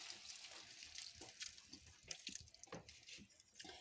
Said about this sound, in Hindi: अब हम इसमें पानी ऐड करेंगे ताकि गोभी भी अच्छे से गल जाए।